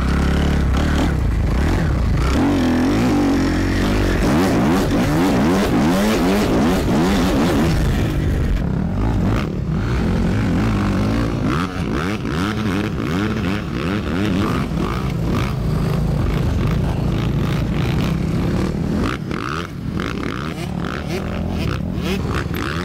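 A motocross motorcycle ridden in third gear at a dirt-track riding school, a loud, close engine revving and surging steadily, with rattling and scraping from the bike.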